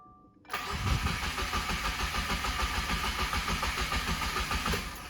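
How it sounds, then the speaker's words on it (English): A turbocharged FA20DIT engine cranks over on a truck battery, the starter churning in a steady rapid rhythm for several seconds, loud and close after a quiet start. "Let's see if we can at least get this thing to crank over."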